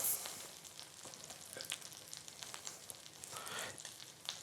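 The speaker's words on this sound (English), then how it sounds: "you're not really deep frying, you're more sauteing" Chicken sizzles and crackles quietly as it sautés in a pan, with soft scattered pops and an occasional scrape of stirring.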